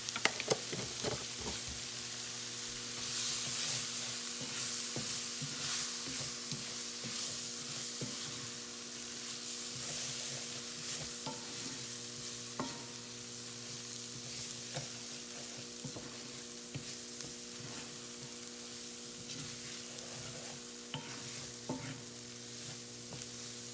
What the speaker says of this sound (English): I'm going to kind of toast them a little.